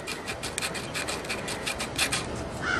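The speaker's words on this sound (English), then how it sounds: "I sand it back and forth over and over and over in that little gap." Fine abrasive rubbing on the ignition points of a Briggs and Stratton small engine, a quick series of soft, raspy back-and-forth scratches repeated in a steady rhythm, close and faint.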